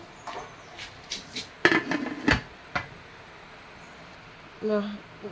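A metal lid clatters onto a cooking pot in a kitchen during sambar preparation, with a few sharp clinks and knocks, a louder ringing clank midway, and softer utensil sounds near the end.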